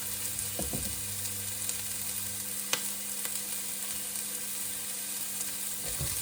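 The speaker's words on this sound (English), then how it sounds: "I just want to get this onion in there. Just get that cooked through a little bit." Onion and red pepper sizzle steadily in a hot pan, a constant broadband frying hiss with occasional faint clinks and a sharp crackle partway through, close and continuous with no talking.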